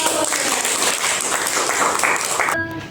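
Classroom applause from students during a school lesson at a madrasa, a dense, fairly loud patter of many hands lasting a few seconds before cutting off abruptly.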